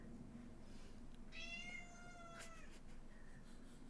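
A pet cat named Rexy meows loudly in one long, drawn-out call with rising and falling pitch, followed by a shorter faint meow, over steady room noise with no talking.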